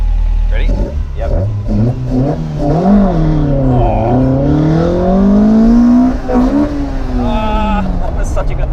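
A tuned Toyota MR2 with a 4AGE 20V engine launching hard, revving high through the gears with rising and falling pitch sweeps at each shift, loud and close from inside the car, with people talking over it.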